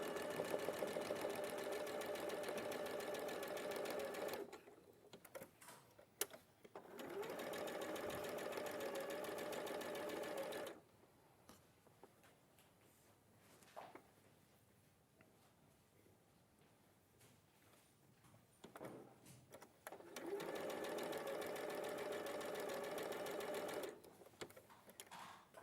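A sewing machine chain-pieces 2.5-inch quilt squares in long bursts of fast, even stitching, stopping for a pause and then running again.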